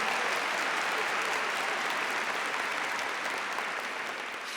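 Congregation applauding in a church during a Catholic friar's sermon, a dense, steady wash of clapping at close range that runs unbroken from start to finish and fades only slightly toward the end.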